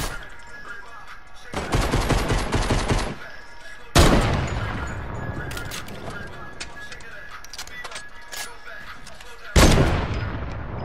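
Gunfire in the Fortnite video game, with a rapid burst of shots followed by single sharp, loud sniper-like cracks that leave a decaying tail, and faint game noise in between.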